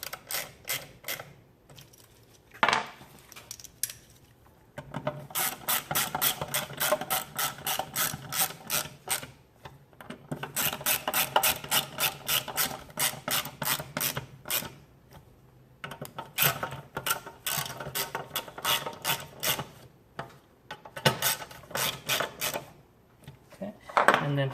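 A ratchet tightens bolts on a Foxbody Mustang, sounding as close, rapid clicking runs in several separate bursts with brief pauses between them.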